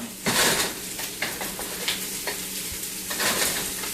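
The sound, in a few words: stir-frying onions in a wok over high heat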